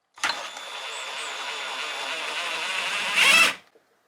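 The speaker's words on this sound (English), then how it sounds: "You need an 8mm. I have it on my impact," Impact driver with an 8mm socket unscrewing a headlight bolt on a car, a steady close whirring drone for about three seconds that ends in a short louder burst before stopping.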